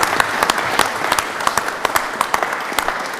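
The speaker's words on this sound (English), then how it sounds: "I think if we give him a round of applause" A council's annual general meeting breaks into applause, a moderate round of clapping from a seated audience with distinct individual claps standing out, steady for a few seconds.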